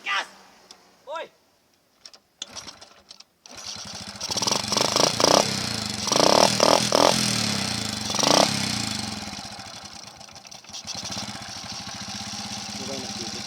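An old Honda Revo motorcycle with a flooding carburetor is started, then its engine idles and revs in loud, uneven bursts before settling into a steady idle, with voices talking over it.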